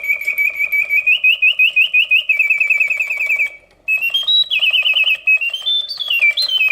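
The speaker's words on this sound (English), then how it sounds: "The bird song is loud and crisp," A vintage Reuge singing bird cage automaton sings loud, crisp mechanical birdsong, with rapid repeated chirps and rising and falling warbles broken by one brief pause, close and alone.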